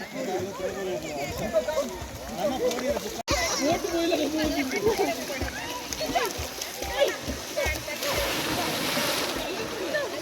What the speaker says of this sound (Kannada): ಆ 2 ಪೂಲುಗಳಿಂದ ನದಿ ನೀರು ಹರ್ಕೊಂಡು ಬರ್ತಾ ಇದೆಯಲ್ಲ,